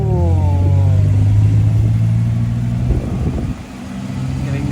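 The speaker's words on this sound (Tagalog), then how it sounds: "Ayan na, tricycle sa Japan." A motorized tricycle in Japan revs its engine up and back down. The loud, close mid-range drone falls and eases off, then settles into a lower idle rumble.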